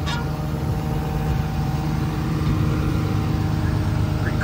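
A Komatsu PC210LC-10 excavator with a thumb has its diesel engine running nearby, a steady low droning idle that holds constant and unbroken throughout.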